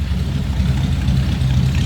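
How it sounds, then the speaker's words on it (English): A 1948 Ford Super Deluxe Coupe's flathead engine runs steadily through dual exhaust, giving a constant low rumble close by with no talking. "Old dual exhaust coming out of that flathead. A little bit of a rumble to it."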